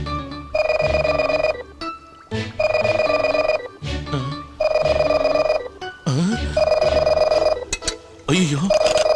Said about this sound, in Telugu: అయ్యో లోపల నుంచి రింగ్ అవుతుంది